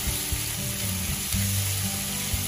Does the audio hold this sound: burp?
no